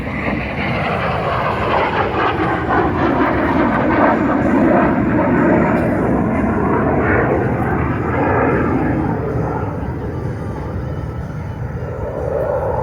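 A military jet making an attack run and pulling 6 G, heard as a loud, steady, broadband engine roar and rushing airflow that holds for the whole stretch without a break.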